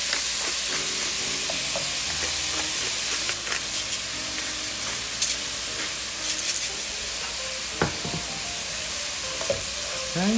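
Onions sizzling in a pot for Manhattan clam chowder while being stirred, a steady frying hiss with occasional scrapes and clinks of the spoon against the pan.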